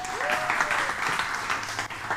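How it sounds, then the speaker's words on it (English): Applause from a church audience, a steady wash of clapping at moderate volume with a faint brief tone near the start. "Clap it up for Hannah, everybody."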